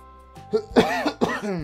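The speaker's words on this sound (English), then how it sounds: "Stop coughing" A man coughs and clears his throat several times in quick bursts, close and fairly loud, with game music humming faintly underneath.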